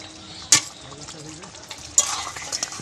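A spatula stirs shukto, a vegetarian Bengali mixed-vegetable dish, in a pan over a quiet simmer, with two sharp scraping knocks against the metal about a second and a half apart.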